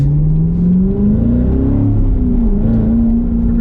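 A Chevrolet C7 Corvette Grand Sport drives along with its engine and exhaust loud and steady, the note rising and falling with gear changes and throttle, a continuous close-up drone throughout with no talking.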